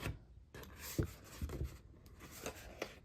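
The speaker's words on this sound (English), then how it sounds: "I like to fold that, and we're going to cut straight across." Scissors cut straight across a folded 12x12 papercraft sheet, giving short, close snips and rustles of paper with a few brief sharper crunches and no talk.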